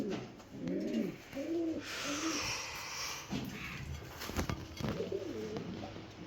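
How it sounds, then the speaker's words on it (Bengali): Fancy pigeons, including king pigeons, coo in soft repeated throaty bursts close by, with rustling and faint background noise. "আমার অনেক টাকার একটা কবুতর"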